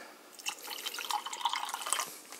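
Water is poured into a container while mixing carbonated Nestea lemon iced tea, giving a soft, close trickling and splashing stream for a couple of seconds.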